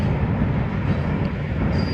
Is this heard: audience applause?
no